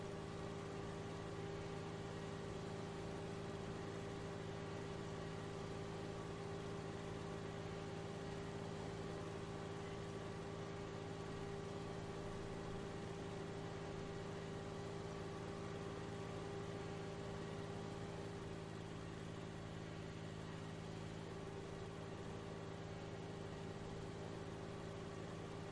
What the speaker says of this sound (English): Now this 1025R is pretty efficient with collecting the leaves. Now this bagger is working